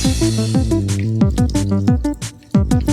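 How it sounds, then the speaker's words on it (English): A spoon stirs a thick, gel-like homemade hand sanitizer mixture, making repeated wet squishing and gloopy squelches in a quick, uneven rhythm close by. "I'm going to use my spoon here. I already ruined the spoon making slime, so now I'm going to stir."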